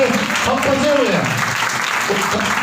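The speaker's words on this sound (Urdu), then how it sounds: "ایک دوسرے کے لیے تالی بجائیے" Congregation at a church service clapping for one another, steady applause filling the room loudly alongside a voice speaking over it.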